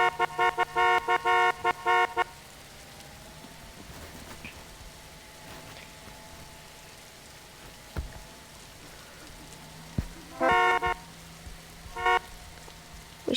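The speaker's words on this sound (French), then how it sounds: "Mais les gars, j'avais perdu mon klaxon." A car horn honks in several bursts, loud and near: a long run of toots at the start, then more short honks later over quiet rain-like background hiss.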